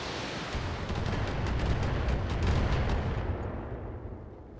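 Artillery in a video game fires on a trebuchet, producing one continuous, heavy booming rumble that swells and slowly fades over several seconds, with no voices.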